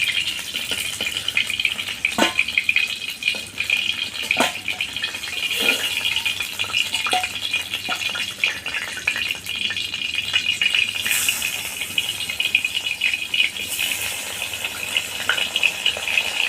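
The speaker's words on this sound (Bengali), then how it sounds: "বাকি মাছটাকে আমি এইভাবেই ভেজে নেব" Koi fish frying in a pan gives a steady, moderate sizzle with scattered crackles and soft clinks throughout, no voices.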